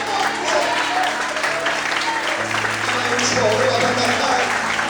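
A church congregation applauds in worship at a Pentecostal-style service, a steady wash of clapping filling the room with a sustained organ or keyboard tone beneath and voices mixed in.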